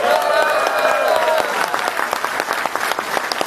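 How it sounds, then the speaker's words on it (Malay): An audience at a business seminar claps steadily and loudly, with voices audible through the applause as individual claps grow more distinct. "Terima kasih Izan, berikan tepukan."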